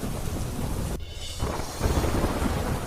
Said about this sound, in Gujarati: ડાંગ જિલ્લામાં ધોધમાર વરસાદ.